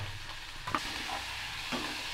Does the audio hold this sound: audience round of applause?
no